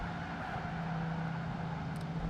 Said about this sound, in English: And the car's screaming at the top of 3rd gear.